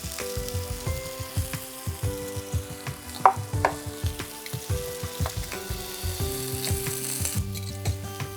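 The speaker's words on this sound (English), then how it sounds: "our steak's been cooking for probably about 2 minutes now" Beef steak searing in a hot pan, a close crackling sizzle with uneven pops and one sharp clatter partway through, over faint background music.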